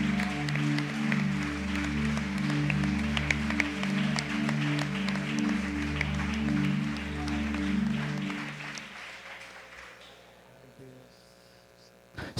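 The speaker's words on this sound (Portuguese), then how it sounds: "Aplauda o Senhor nessa manhã, em nome de Jesus." A congregation claps through a Sunday morning church service, with dense, sustained clapping over a steady droning keyboard tone that dies away after about ten seconds, leaving near quiet.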